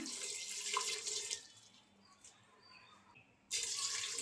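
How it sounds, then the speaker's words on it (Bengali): Water pours into a cooking pot of beef tripe with ginger, onion, garlic and turmeric, a soft hissing splash that fades midway and then resumes briefly, faint and close. "আমি এখানে বড় দুই কাপ পানি দিয়ে দিলাম"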